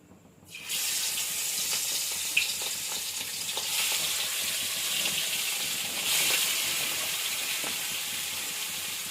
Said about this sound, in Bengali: মাছটাকে দিয়ে দেবো তেলে।